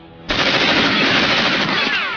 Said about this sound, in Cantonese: 你亂咁開槍，有冇搞錯？